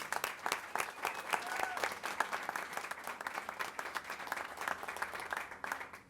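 Steady applause from a large crowd at a celebration honoring about 7,000 young SummerWorks participants in Louisville, heard as a fairly distant, continuous wash of clapping.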